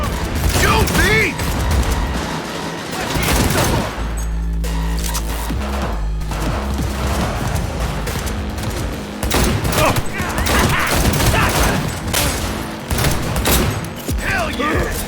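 Bursts of automatic gunfire and heavy impacts ring out through a firefight in Cyberpunk 2077, loud and dense with brief lulls, while voices shout over the combat.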